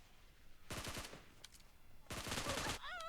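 Automatic gunfire in an online shooter game, heard as two loud close bursts of rapid shots separated by a short pause, followed by a brief warbling electronic tone.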